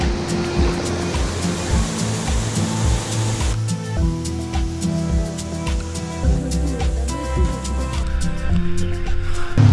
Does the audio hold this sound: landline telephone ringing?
no